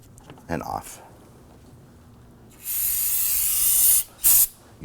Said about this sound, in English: Use some spray solvent on that terminal